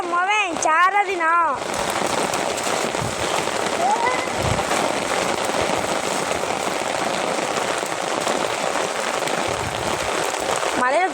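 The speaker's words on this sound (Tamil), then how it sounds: "ஆமாம், நல்ல மழை. தண்ணி பெருவி இடக்குது." Heavy rain pours down in a dense, steady hiss that fills the scene, following a brief voice at the start.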